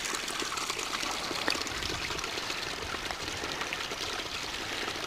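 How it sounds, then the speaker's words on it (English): Water trickles and rushes continuously through a Scottish glen, Glen Douglas, as a steady, fairly loud broadband wash with no talk over it. "There's water trickling and rushing everywhere."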